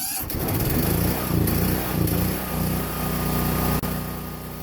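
A Generac portable generator engine runs while warming up, a loud, close, rough and continuous rumble with a throbbing rhythm and no talk over it.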